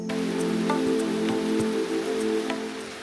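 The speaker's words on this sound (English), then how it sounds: "As quickly as the rain begins" Rain falls on Bioko Island in the Gulf of Guinea, a steady hiss of drops on surfaces with scattered louder taps and a low constant hum beneath, no voices.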